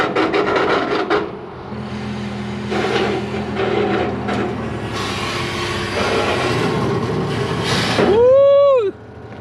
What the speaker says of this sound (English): go drag your bumper through a park.